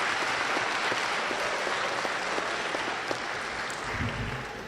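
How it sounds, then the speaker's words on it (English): A town hall audience at a school gives a sustained round of applause for two congressional representatives, dense clapping that holds steady and tapers slightly at the end. "how about a very, very warm round of applause for our 2 congresspeople"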